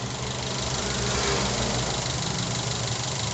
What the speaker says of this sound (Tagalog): nag-idle na po yung ating ano ating carburetor